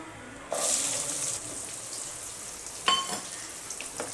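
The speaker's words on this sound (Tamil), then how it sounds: "வெங்காயம் சேர்த்து நல்லா வதக்கிக்கலாம் வெங்காயம் நல்லா வதங்கி வரட்டும்" Small shallots dropped into hot oil with crushed fennel seeds while cooking goat blood fry, a burst of sizzling followed by softer crackling and a few clinks of stirring.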